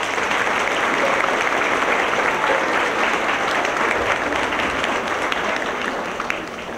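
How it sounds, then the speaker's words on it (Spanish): A dense, steady round of applause from an audience at a gathering of mothers and children, sustained clapping that fills the room and eases off slightly at the end. "quiero pedirles un aplauso para todos ustedes"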